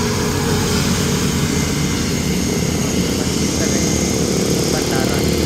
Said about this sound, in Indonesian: Ini dia pesawat ke Bade.